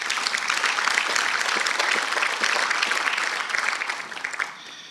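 Audience applause fills a hall at the opening of a rural-focused conference, steady dense clapping that holds for several seconds and then thins toward the end.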